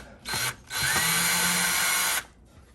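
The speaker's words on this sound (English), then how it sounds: "So I'm going to get these screws out of here" A Ryobi cordless drill backs screws out of a shelf: a short whirring burst, a brief pause, then a longer steady whine of about a second and a half, loud and close.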